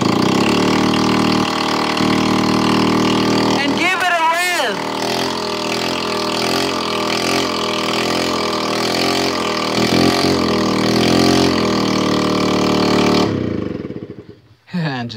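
A motorcycle engine runs at a steady, loud idle close by, a throbbing mechanical drone that lasts throughout before cutting off near the end, with a brief warbling whine partway through.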